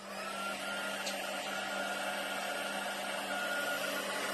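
Embossing heat tool blowing hot air over powder on a Christmas card, a steady whirring fan drone with a constant hum throughout, fairly quiet and alone with no talking.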